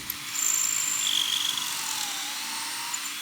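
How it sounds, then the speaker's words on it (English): A high, steady whine of a power drill boring pocket holes in wood runs continuously at close range, with no talking. "I'm having Cody drill some pocket holes because we like to use pocket screws and dados together."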